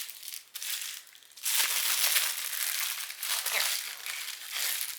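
A plastic bag is crinkled and crushed close by while a book package is being opened, giving a dense, continuous rustle that quiets briefly and then grows louder and steadier.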